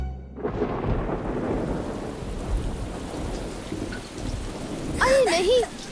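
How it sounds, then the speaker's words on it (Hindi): Rain starting in an anime episode, a dense loud hiss of falling rain with low rumbling swelling in after a quiet opening, and a brief voice near the end. "अरे नहीं, यहाँ तो बारिश शुरू हो गई।"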